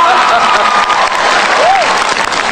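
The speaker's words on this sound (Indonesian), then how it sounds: "Tepuk tangan dulu dong untuk Pak Ahok." An audience at a stand-up comedy speech event applauds loudly and continuously, with dense clapping filling the whole stretch and a voice rising faintly over it.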